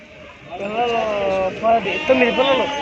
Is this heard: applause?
no